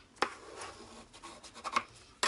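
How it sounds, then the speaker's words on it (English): Folded craft paper for a mini folio being burnished, heard as soft rubbing and rasping strokes with a few sharper scrapes, close and fairly quiet. "we're just going to burnish this."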